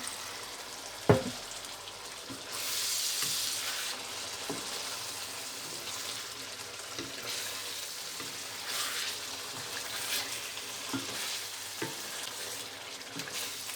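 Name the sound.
mutton gola kabab frying in a pan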